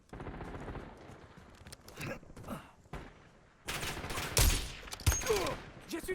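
Gunfire in the video game Warzone, with dense bursts of automatic shots and cracks that start faint and muffled, then grow louder and busier in the second half, with scattered loud reports.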